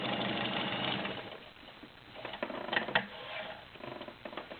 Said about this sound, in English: And we're going to stitch, and we're going to adjust the width at the same time.